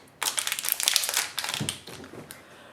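Close, crisp crinkling of paper in rapid bursts as jewelry is unwrapped and the paper pulled apart, with a brief pause in the middle.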